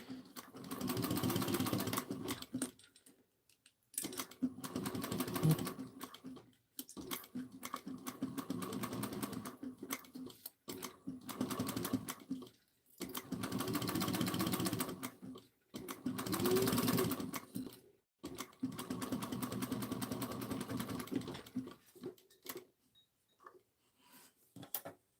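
A sewing machine stitches a waxed canvas backpack in repeated runs of rapid mechanical whirring, each lasting a few seconds, separated by short pauses, close and fairly quiet.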